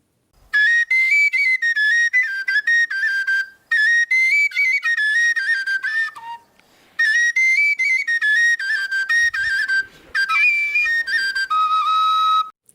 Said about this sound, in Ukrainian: Звучання сопілки дуже ніжне.